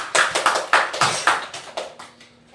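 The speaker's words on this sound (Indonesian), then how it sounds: "tepuk tangan semuanya" Children in a school classroom clap together in a quick, even rhythm. About a dozen crisp, close claps gradually grow softer and fade out.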